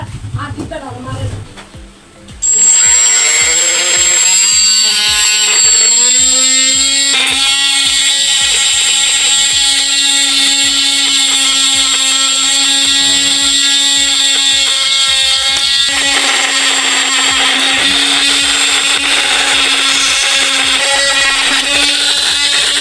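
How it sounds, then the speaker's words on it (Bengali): A homemade 12-volt drill machine running continuously at a loud, steady pitch, its high whine and buzzing motor tone holding for about twenty seconds after starting up from a quieter stretch, with a slight shift in tone midway. "পেলেন এখানে খুব সুন্দর ড্রিল করা যাচ্ছে"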